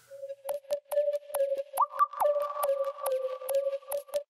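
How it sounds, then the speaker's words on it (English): A bare synth melody built from a couple of sine waves with white noise layered on, playing a steady run of short, evenly spaced notes with crisp noisy attacks. It rises to a higher held tone midway and sounds alone, with no voices. "It's just a couple sine waves with some white noise on it"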